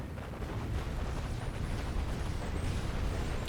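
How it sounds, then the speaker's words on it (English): Explosions in the strategy video game Planetary Annihilation, a dense continuous rumble of blasts and booms during a battle, steady and moderately loud with no clear gaps. "Those explosions would look so much better with HDR."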